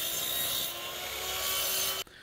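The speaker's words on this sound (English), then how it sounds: "Then cutting to length with the cutoff saw, which has a blade suited to cutting aluminium." A cutoff saw with a blade made for aluminium cuts aluminium canopy tracks, giving a loud continuous high grinding whine that holds steady for about two seconds and then stops abruptly.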